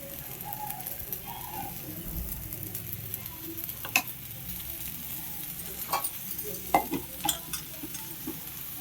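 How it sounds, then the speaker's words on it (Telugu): A paneer dosa cooks on the pan with a steady, soft sizzle, broken by intermittent close scrapes and taps of a spatula. "ఈ దోశ మంచిగా కాలుతుంది."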